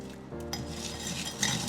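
A utensil scrapes and clinks around a bowl while white chocolate chips and a little vegetable oil are stirred together, several quick close scraping strokes with no talking.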